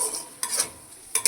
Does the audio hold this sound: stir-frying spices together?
yes